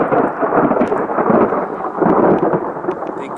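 Thunder rumbling before a storm near a beaver dam, a deep rolling roar that swells and ebbs continuously, loud and close-sounding, with no voices.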